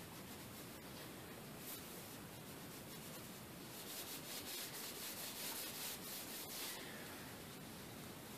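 A steady, close scrubbing and rubbing sound as finish is worked by hand into diamond willow wood, continuing evenly throughout with no talking.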